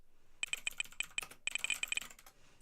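Clicky, rattling keystrokes from a faulty computer keyboard that makes noise on every press but types nothing, a quick irregular burst of sharp metallic taps close up, with a short pause midway and no talk.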